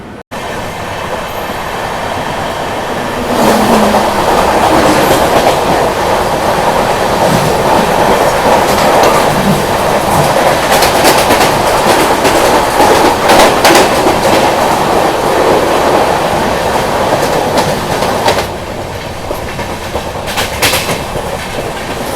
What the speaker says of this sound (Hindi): हम लोगों की ट्रेन डिपार्ट हो रही है बोरीवली रेलवे स्टेशन से